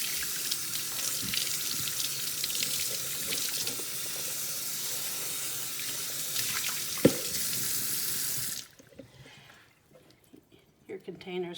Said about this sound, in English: Wash it all out with hot sudsy water.